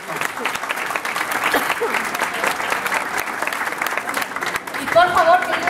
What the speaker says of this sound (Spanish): para él también quisiera un fuerte aplauso